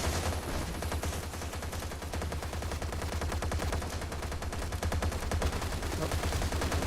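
Rapid machine-gun fire in a shooter video game, steady close rattling bursts aimed at the player, continuous and fairly loud with no talking.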